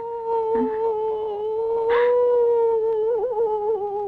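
A person's voice imitates a dog howling: one long, steady, drawn-out wail that wavers toward the end, close and fairly loud.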